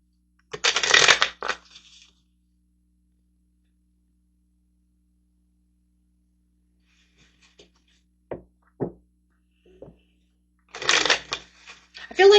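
Tarot cards being shuffled in two brisk bursts at the start and end, with a few light taps and soft handling noises in the quiet stretch between them.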